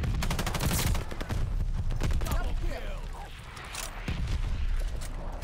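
Rapid bursts of assault rifle fire from an FG-42 in the shooter game Call of Duty: Vanguard crackle loudly and repeatedly, mixed with other in-game gunfire and battle noise while a player talks over it.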